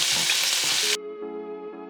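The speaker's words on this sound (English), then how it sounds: "add in 1 chopped up capsicum, 1 chopped up onion, and the 1 green chili. Do that and fry them until they're nice and soft" Chopped capsicum, onion and green chili sizzling loudly in a pan, a dense hiss that cuts off abruptly midway, leaving a quiet hum.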